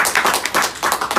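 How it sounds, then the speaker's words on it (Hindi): An audience at a team training session claps, giving a quick run of loud, sharp, rhythmic hand claps in close succession that fills the short moment, with no talking. "एक बार जोरदार ताली होना चाहिए।"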